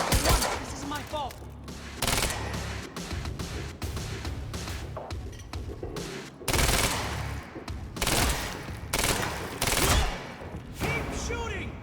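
Monarch soldiers shooting in Quantum Break, loud repeated bursts of gunfire that start and stop in clusters, with short gaps and voices speaking between them.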